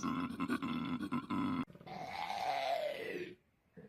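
Deep, rasping bellows from a male koala, a pulsing snore-like rumble followed by a long drawn-out groaning roar that fades away.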